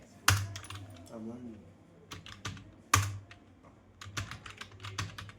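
Typing on a computer keyboard while entering names into an Excel spreadsheet, with scattered key clicks and a few louder taps. Someone talks quietly over the typing.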